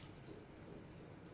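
Cold tap water runs steadily into a sink as freshly cooked seffa pasta is rinsed, a continuous faint splashing hiss with no voices.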